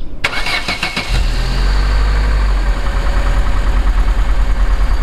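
An old car's engine cranks briefly, then catches and roars to life loudly up close, settling into a rough, steady idle with a deep low rumble.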